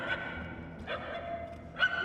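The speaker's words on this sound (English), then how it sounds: "The barking is getting fainter." A dog barks in a sci-fi space adventure video game, with three short, muffled barks spaced across a couple of seconds. They sound distant and faint over a low ambient background.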